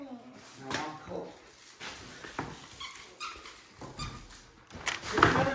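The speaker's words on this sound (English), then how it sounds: "There's another puppy." A puppy whimpers and barks indoors in a home, giving scattered short yips and whines among household noise while people talk nearby.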